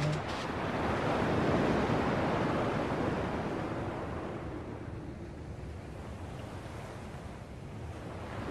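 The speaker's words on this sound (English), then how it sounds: "At least the waves sound the same." Ocean surf from Kingdom Hearts 2 Final Mix rolls in as a steady, close wash of breaking waves, swelling early and then easing to a softer continuous hiss, with no voices.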